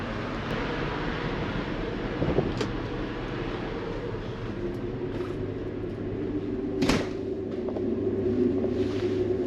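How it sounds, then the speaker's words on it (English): Strong wind roars and rumbles steadily for the whole stretch, punctuated by a few sharp knocks and bangs, with no one speaking. "Whoa, seriously windy. It's a warm wind, but it's a strong wind."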